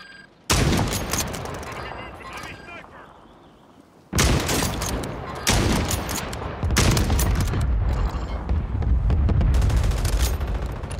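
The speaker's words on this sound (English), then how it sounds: "I downed someone with a sniper" Call of Duty match with repeated sniper rifle shots and bursts of gunfire, loud and dense, in several sustained volleys with a brief lull in between; a voice speaks faintly underneath.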